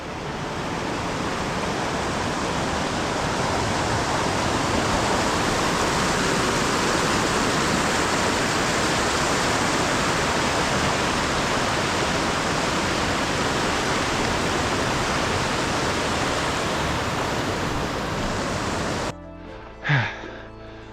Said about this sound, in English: appears we gotta cross this creek.